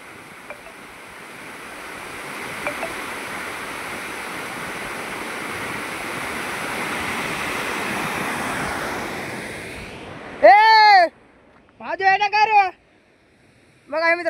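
Water rushing hard at Manar dam on the Manyar river, a loud continuous roar like heavy surf with wind buffeting the microphone, then dropping away as people talk and shout near the end.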